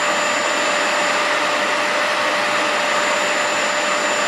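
A Hoover carpet cleaner runs close by with a loud, constant motor whine and an even suction roar that never lets up.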